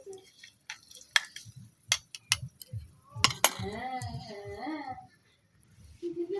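Chopped onion, chili and bay leaf are stirred in a pan, making a string of sharp metallic clinks and taps from the utensil over a soft sizzle, with a short pause near the end.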